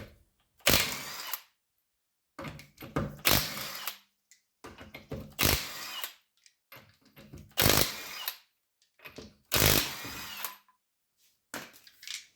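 An impact wrench fitted with a 22mm socket rattles off the wheel nuts of a 2011 Honda Odyssey, sounding in five or six sharp, loud hammering bursts separated by short silences, close by with no talking.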